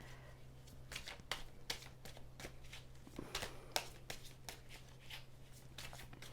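Tarot cards are shuffled and dealt close by, a quick run of crisp flicks and soft slaps of card on card, quiet and evenly spaced, with no one speaking.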